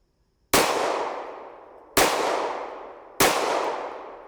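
Three sharp pistol shots from a Beretta 9mm, loud and close, each with a long ringing decay, spaced about a second and a half apart with no talk between.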